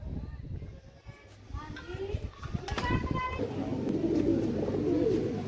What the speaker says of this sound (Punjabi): ਦੁੰਨੇ ਨੇ ਦਾਣੇ ਰੱਖਤੇ ਖਾਈ ਜਾਂਦੇ ਆ ਕਬੂਤਰ